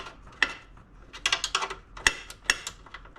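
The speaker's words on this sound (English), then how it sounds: "Remember to tighten these bolts that hold that bracket down" Bolts holding a bracket down on a Suzuki Cara being tightened: close, sharp metallic clicks and ratcheting taps in irregular bursts, with a few louder clanks standing out against a quiet background.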